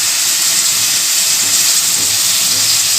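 Potatoes frying in oil, producing a loud, steady, dense hiss of sizzling that stays even and close from start to finish, with no voices.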